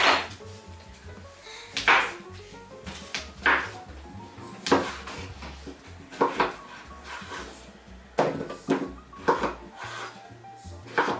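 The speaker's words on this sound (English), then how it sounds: "So I'm just gonna chop these potatoes up" A knife chops through potatoes onto a board in slow, uneven strokes, each thud close and clear, with light clatter between.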